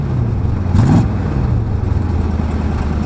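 A 1975 GMC truck's 350 engine with glasspack mufflers idles with a deep, throaty rumble, then briefly revs up louder before settling back to a steady low drone.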